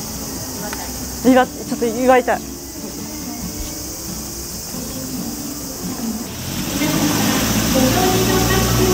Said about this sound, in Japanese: セミの鳴き声が夏ですね。